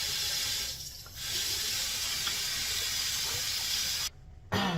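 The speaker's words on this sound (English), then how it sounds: "Now I am going to rinse my hands off." Steady hiss of a tap running as hands are rinsed under it, continuous through most of the stretch and broken by a brief gap near the end before resuming, with no voice.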